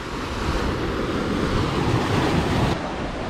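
Sea waves surge and crash against rocks at Ettikkulam beach in Kerala, a loud, continuous wash of surf with wind buffeting the microphone, swelling midway and easing toward the end.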